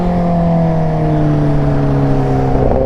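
A Royal Enfield Himalayan 450 motorcycle engine drones steadily while riding toward Nandi Hills, its rising tone held loud and close throughout with no talk.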